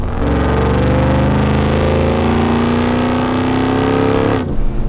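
A Hennessey Mammoth 1000 TRX, a 1000-horsepower pickup truck, revs hard up close in a loud, sustained roar that climbs steadily in pitch before cutting off sharply near the end.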